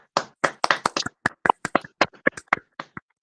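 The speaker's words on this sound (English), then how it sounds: "Okay, let's clap." A small group claps on a morning radio show, about twenty distinct, separate claps in an uneven rhythm, close and crisp, with silence between them.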